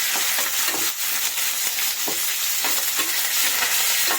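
Food frying and sizzling in a pan, stirred with a utensil: a steady broadband hiss runs throughout while faint scraping strokes repeat irregularly, close and fairly loud, with no voices.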